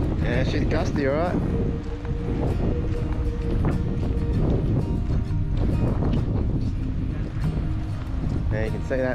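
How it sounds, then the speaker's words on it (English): Gusty wind at a beach campsite in Denmark, Western Australia, buffets the microphone with a constant loud, rumbling roar that never lets up, while faint other sounds are partly masked beneath it. "Sorry for the poor sound quality with the wind blowing everywhere."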